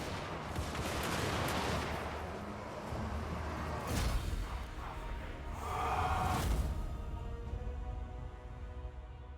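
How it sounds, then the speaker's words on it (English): Bombing run in the Total War: Warhammer strategy game, heard as a sustained roar of rumbling explosions and gunfire-like blasts with louder swells near the middle and end, dense and continuous throughout. "Preparing bombing run!"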